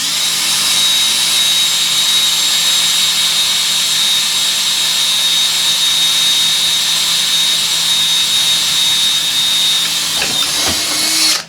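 A power drill with a thin, worn bit bores a pilot hole for a repair on a Bomford hedge trimmer, making a loud, steady high-pitched whine that runs unbroken for about eleven seconds before stopping abruptly.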